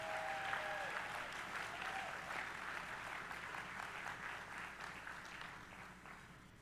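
Steady applause from a luncheon audience after a musical performance at a Black Wall Street Legacy Festival event honoring survivors and descendants, rolling on evenly and gradually tapering off.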